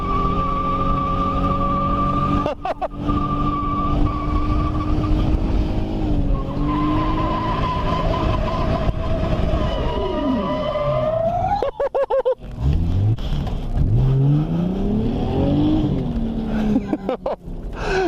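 A car does a burnout at a motorsport event, engine revving hard and holding high with rising and falling pitch, tires squealing continuously, loud and close over roughly eighteen seconds with brief drops as the throttle lifts.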